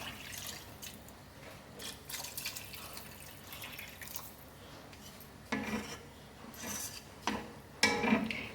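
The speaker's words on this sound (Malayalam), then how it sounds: "ഇനി നമുക്ക് ഇതിലേക്ക് 2 കപ്പ് വെള്ളം ഒഴിച്ചു കൊടുക്കാം" Water poured into a pot of broccoli while making creamy broccoli soup, a soft trickling and splashing with brief drips and a few louder pours near the end, close and alone without talk.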